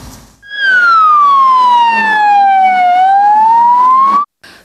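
A loud, close ambulance siren wails on a call in Vinnytsia region, Ukraine, a single long tone sweeping down and back up before cutting off sharply, with no talk over it.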